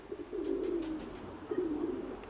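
Pigeons in a loft coo in two long, throaty rolling phrases, close and steady, with a pause between them and no voices present.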